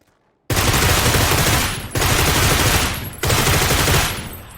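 Three long, loud bursts of automatic gunfire in PUBG Battlegrounds, each a dense rattle of shots that tails off, separated by brief gaps after a near-silent start.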